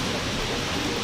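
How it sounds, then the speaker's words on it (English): Heavy rain falls in a steady, dense wash of noise with no gaps, close and fairly loud, and nobody speaks over it. "Seems like it's raining a lot."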